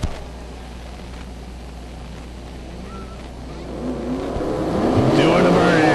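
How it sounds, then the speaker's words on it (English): Outlaw 10.5 drag race cars doing burnouts at a drag strip, with a low engine rumble that builds over the last couple of seconds into a louder roar beneath crowd noise. "Doing the burnouts."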